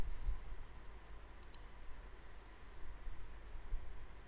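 A couple of short, sharp mouse clicks on an image inside a Windows application, set against a faint steady background hiss, with no talking.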